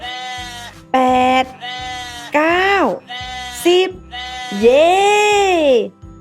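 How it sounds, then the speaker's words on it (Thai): Several sheep bleat on a farm in a run of separate, loud, wavering calls, some short and some drawn out, with a steady low hum running underneath. "แกะในฟาร์มนี้มีทั้งหมดกี่ตัวเอ่ย"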